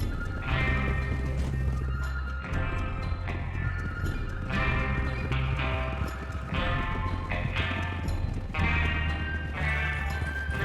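Horses gallop with heavy, rhythmic hoofbeats and let out repeated whinnies in Red Dead Redemption 2, loud and continuous throughout with a tonal background.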